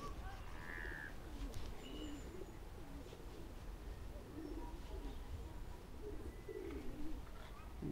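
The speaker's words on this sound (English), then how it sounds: "Pigeon there taking a drink." Soft pigeon coos drift through outdoor ambience by a park lake, while faint chirps from other birds and distant murmuring voices sit in the background.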